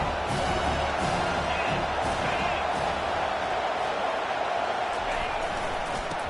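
Stadium crowd roar in a Madden football video game, a dense, steady wash of cheering that holds loud and even throughout, with a few sharp slams and whoops poking through.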